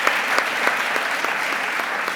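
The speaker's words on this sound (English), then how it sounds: "Can I request you for a bigger round of applause" Audience applauding at the ADEA 2022 Triennale opening ceremony, a steady dense wash of many hands clapping, loud and sustained throughout with no talk.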